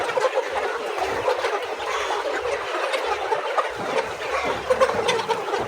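Recently debeaked poultry chickens cluck and murmur steadily as a dense flock, a continuous busy chorus of overlapping calls inside a poultry farm with no talking.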